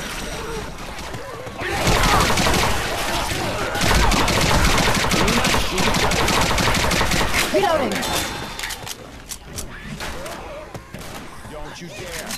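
Gunfire in Left 4 Dead 2: a loud, dense stretch of rapid shots and crashes, tapering to scattered bursts near the end, with players' voices talking over it.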